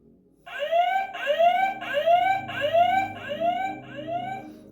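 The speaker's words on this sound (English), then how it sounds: "It's just like an alarm." A 2010 Star Wars Legacy Collection AT-AT Imperial Walker toy sounds its electronic deployment alarm, six loud rising whooping tones repeated in a steady rhythm, close and clear with no talk.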